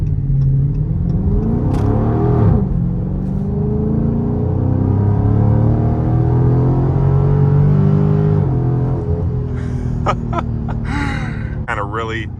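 A 2023 Dodge Charger Scat Pack in sport mode accelerates hard, with the engine note climbing steadily through the revs, loud and close inside the cabin. Near the end a person gasps and speaks over the engine.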